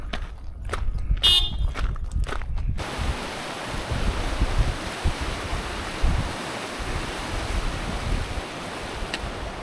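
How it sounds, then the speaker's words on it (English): The French Broad River at Hot Springs, North Carolina, flowing steadily while being crossed, a loud broadband rush of water with wind noise across the microphone, following a few brief higher sounds at the start. "This is the French Broad River I'm crossing right now in Hot Springs."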